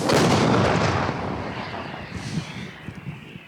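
A single heavy boom from a Msta-B howitzer firing opens the clip, followed by a long rumbling echo that slowly fades into the distance.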